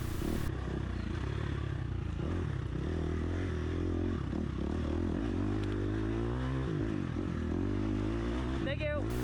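An enduro dirt bike engine revs and labors up a hill climb during a sprint enduro race, close and continuous with shifting pitch, wind and clatter over it.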